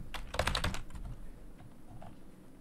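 Quick bursts of typing on a computer keyboard, close and clear, with a flurry of rapid keystrokes at the start followed by scattered lighter taps.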